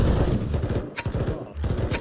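Rapid SMG gunfire in Pavlov VR, loud and close: several quick bursts of shots fired in stuttering rhythm, with a brief lull in the middle before the firing picks up again.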